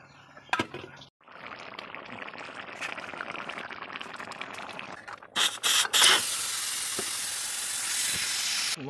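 Hot water is poured into a pan of goat brain cooking Assamese style outdoors beside a pond, first a steady rushing pour, then a loud, sustained hissing sizzle as the liquid hits the hot pan, close by and with no talking.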